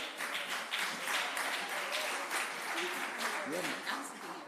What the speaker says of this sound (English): You can give him a better round of applause for that